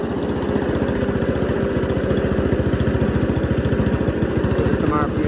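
A Tornado/Baker wood chipper's small engine warms up at a steady, fast-pulsing idle, running loud and close without a break for the whole stretch.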